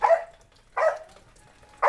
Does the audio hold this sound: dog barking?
yes